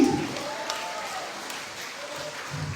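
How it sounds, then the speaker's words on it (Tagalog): Congregation applause at a church service commemorating the Feast of Passover: a steady wash of clapping that holds through the moment, moderately loud and fading slightly near the end. "Pumalakpak ang mga mapagtagumpay."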